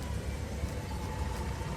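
A boat motor drones with a steady low hum as the boat pulls away from a Dubai pier, constant and moderately close, with no talk.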